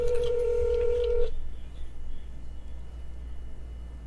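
Telephone keypad dialing tones from someone placing a call, a short run of close beeps followed by a faint steady line hum.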